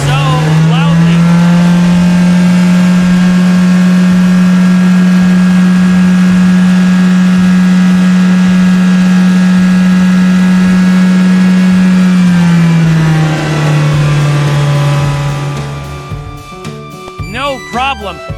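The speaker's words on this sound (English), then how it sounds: "Next is the yellow sports car. Its engine roars so loudly." Loud, steady synthetic engine roar from a yellow toy sports car, a sustained buzzing drone that holds for about twelve seconds, then dips in pitch and fades into rattling.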